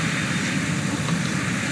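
Airplane engine in a video game, a steady loud drone that stays even throughout with no talk.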